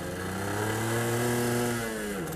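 A Suzuki RGR 150 two-stroke motorcycle engine in need of servicing revs up loud and close with a buzzing, rising note, then drops away near the end.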